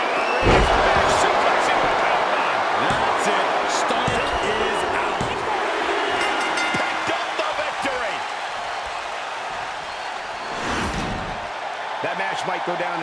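A large arena crowd in the wrestling video game WWE 2K23 roars and cheers continuously, loud and dense, with sharp impacts and thuds breaking through and a voice talking over the noise during a handicap tornado tag team match.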